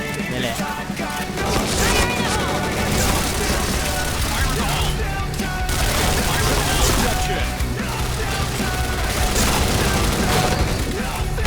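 Explosions and gunfire in a Thai multiplayer shooter video game, loud and dense throughout, with blasts and crashes layered under excited voices.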